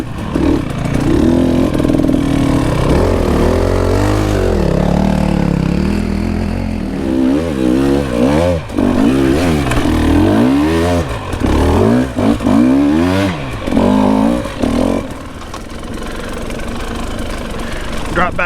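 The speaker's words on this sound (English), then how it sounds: "Maybe it's just a dirt bike" Dirt bike engine on a forest singletrack, loud and close, idling roughly then revving up and down in repeated surges, with a knocking, buzzy tone and some talk underneath.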